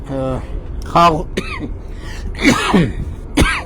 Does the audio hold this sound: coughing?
yes